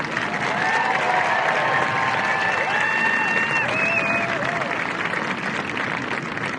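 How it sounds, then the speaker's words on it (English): Continuous audience applause fills a basic military training graduation ceremony for the 323rd Training Squadron, a dense even roar of many hands that holds steady throughout, with faint tonal sounds floating above it. "How about we give them a round of applause for their guidance and mentorship?"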